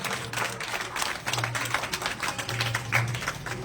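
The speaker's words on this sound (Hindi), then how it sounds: "तालियां नहीं रुकनी चाहिए" An audience at a political gathering applauds to welcome a state legislator, giving soft, distant, scattered clapping over a low background hum.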